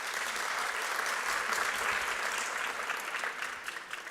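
A town hall audience at the University of Limpopo applauds the SRC president, a dense, even wash of clapping from many hands that tapers slightly at the end.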